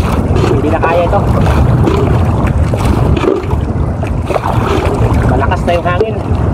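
Strong wind roars and buffets steadily on open water while paddling a boat, with waves slapping and a voice speaking faintly underneath.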